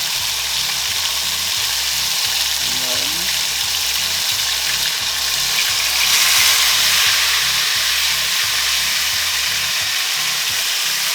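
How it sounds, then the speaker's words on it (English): Thin T-bone steaks fry in a pan with a constant loud, bright sizzle and hiss, broken by faint clicks and a brief swell of louder sizzling midway. "the T-bone steak, they are very thin, so they will not take forever to cook"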